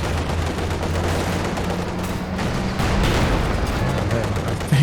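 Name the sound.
Katyusha rocket barrage in Company of Heroes 2 video game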